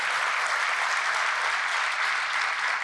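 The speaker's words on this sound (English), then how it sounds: "Please give them another round of applause" Awards ceremony audience applauding a group of young people, a steady, loud, even roar of many hands clapping throughout, with no voices standing out.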